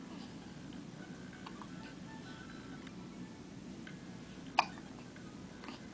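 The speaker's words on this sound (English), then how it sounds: "Good loud hiccups." A single sharp hiccup from a person stands out near the end against a low, steady room background.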